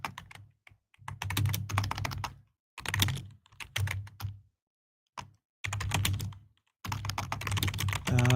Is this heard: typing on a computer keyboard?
yes